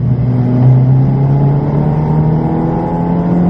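A Ferrari engine accelerates on track at Silverstone, a loud, steady in-car drone with a rising pitch, heard alone and close for several seconds.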